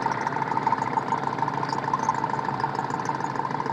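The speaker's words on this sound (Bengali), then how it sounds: "বালু বহন করা একটা ট্রলার, এটাকে মূলত বলা হয় ট্রলার" Engine of a sand-carrying trawler boat on a busy waterway, a steady mid-pitched droning hum with a faint rhythmic knock, continuous and fairly close throughout.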